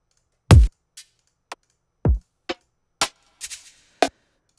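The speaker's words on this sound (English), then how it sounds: "I have a bunch of different drum samples that I'm playing in a pattern." Drum samples in a Latin trap beat play alone as sharp, dry percussive hits with silence between them, a sparse pattern of booming low thumps and crisp snappy clicks.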